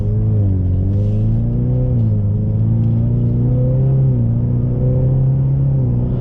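A 2021 Ford Mustang 2.3L High Performance Package four-cylinder, nearly new, revs and pulls under acceleration from inside the cabin, a steady loud drone rising and dipping through several gear changes with no talk.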